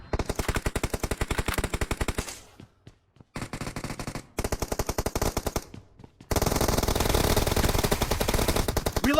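A suppressed QBZ rifle fires in PUBG Mobile, rapid automatic bursts of muffled shots with short pauses between volleys, then a long unbroken burst at the end, loud and close.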